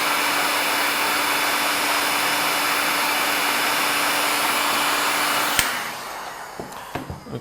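A hair dryer blows steady, loud heat onto a Samsung Galaxy S4 screen to soften the adhesive during a home glass replacement, running continuously for about five and a half seconds before switching off, followed by a few faint handling clicks.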